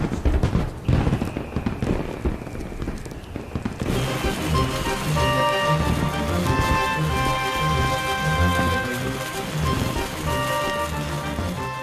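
Summer solstice celebration fireworks crackle and pop continuously, a dense rolling stream of bursts that thickens partway through, with music-like tones layered over the noise.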